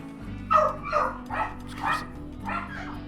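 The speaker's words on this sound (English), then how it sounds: "the dogs are going a little bit mad" Dogs bark excitedly at home, about five loud yaps in an irregular rhythm over a steady low background hum.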